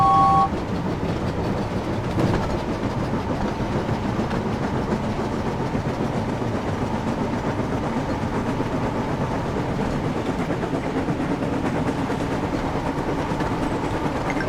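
Steady rumble and clickety-clack of a train rolling along the track in the video game Thomas and Friends: Wonders of Sodor, held continuous and fairly close, with a brief horn-like tone at the start and no talking.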